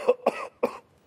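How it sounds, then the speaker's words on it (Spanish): Three short, dry coughs from a man in a doctor's examination room come in quick succession, close and alone. "Toser."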